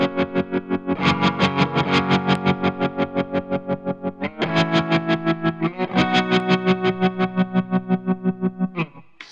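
Electric guitar riff through a Mooer Trelicopter tremolo pedal set to deep, choppy staccato pulsing, loud and rhythmic with steady chord changes, played alone.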